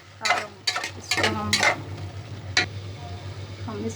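Minced meat (kheema) frying in a pan, stirred with a spoon in a few quick bursts of scraping and sizzling over a steady low hum, close by, fading to quieter sizzle.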